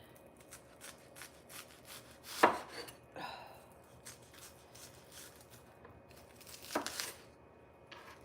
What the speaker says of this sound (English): I'm here slicing onions this morning.